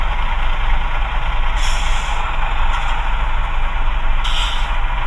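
An HO scale CSX ET44AH Tier 4 GEVo model locomotive's sound system idles with a loud, steady diesel rumble and faint hiss, and brief higher tones cut in twice.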